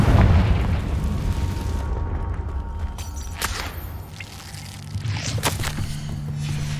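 The Confringo fire spell exploding in Hogwarts Legacy: a heavy booming blast at the start, followed by a lingering rumble and a few sharper crackling bursts.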